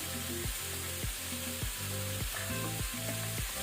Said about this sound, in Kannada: ಪುನಃ ಇದನ್ನು ಮಿಕ್ಸ್ ಮಾಡಿಕೊಳ್ಳುವ.